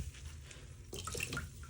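Water is gently squeezed from a soaked hand-knitted Ranunculus garment during blocking: a faint, quiet trickle and soft dripping that starts about halfway through.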